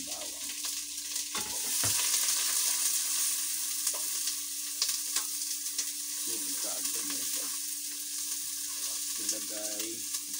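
Onion and garlic sauté for lugaw with a constant bright sizzle, close and steady, broken now and then by soft stirring scrapes and a low hum.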